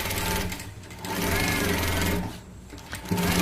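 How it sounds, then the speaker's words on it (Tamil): A sewing machine runs a top stitch in close, loud bursts of rapid mechanical chatter, pausing briefly between runs before starting again. "இப்போ வந்து ஒரு அமுக்கு தையல் வந்து நம்ம போட்டுக்கலாம்."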